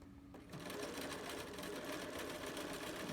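A sewing machine runs a zigzag stitch along the raw edge of fabric while sewing a small adult face mask, a steady close whirring after a brief quiet start.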